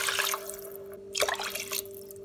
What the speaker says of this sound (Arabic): بس حطيت الرز كمان بحط المي